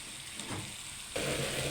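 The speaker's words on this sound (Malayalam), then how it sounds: "ഇനി മീനെടുത്ത് ഇതിനകത്തോടെ ഇങ്ങനെ അങ്ങ് പൊരിക്കുകയാണ്" Mackerel coated in spice paste fries in oil with a soft, steady sizzle that jumps noticeably louder partway through, with no voices.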